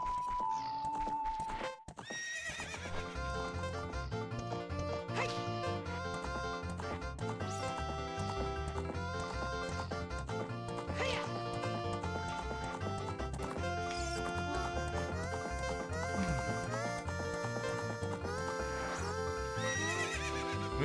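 A horse in Ocarina of Time whinnies and trots amid game music and effects, the neighs and clip-clop hoofbeats mixed into a dense, steady soundtrack throughout.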